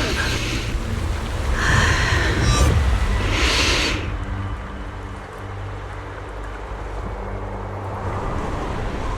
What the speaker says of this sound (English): The wind. It's shifting.